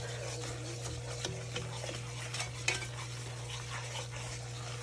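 Homemade country gravy is stirred in a pan at The Grub Shack to break up the clumps. Quiet, steady scraping and faint sizzling play over a low constant hum, with a few clinks of a utensil and no talk.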